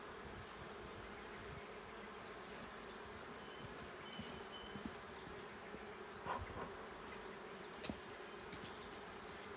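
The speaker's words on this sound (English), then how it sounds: "So I'm going to give them a puff of smoke so that I minimise any injuries to the bees" Honey bees buzz around an open hive during a routine late-April inspection after a light puff of smoke, a steady close-up droning hum with a few individual bees whining past the comb.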